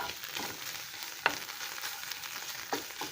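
Palak paratha cooking in a pan with oil left from a curry: a steady close sizzle and crackle with a few sharper pops and clicks, quiet and without talk.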